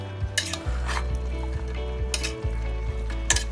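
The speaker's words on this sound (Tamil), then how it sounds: "நல்லா இந்த சிக்கனை அந்த ஸ்பைசஸோட நல்லா சேர்ற அளவுக்கு நல்லா கிளறி விட்டுருங்க" Chicken pieces stirred with spices in a pan for a Tamil chicken gravy, with several distinct scrapes and clinks of a spoon against the pan over a steady sizzle, close and alone with no talking.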